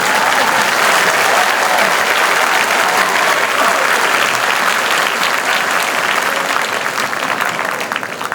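Sustained audience applause at a university convocation ceremony, loud and dense from start to finish with no speech over it, tapering slightly at the end.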